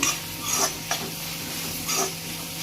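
Tomatoes sautéing in a pan, with a steady sizzle and a spoon stirring and scraping in short bursts, close and continuous without talk.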